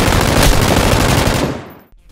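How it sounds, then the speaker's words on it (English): Sustained rapid automatic fire from an M249 light machine gun in the PUBG video game, a loud dense unbroken burst lasting nearly two seconds before cutting off abruptly. "Concerning the M249 machine gun, it can only be found in airdrops and is an excellent weapon to lay down suppressing fire"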